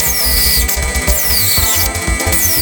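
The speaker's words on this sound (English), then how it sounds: "Drill a hole right in the middle, right there." A power drill whines loudly in repeated bursts, its pitch rising and falling as it bores, with brief pauses between runs.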